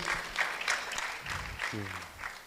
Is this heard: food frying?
no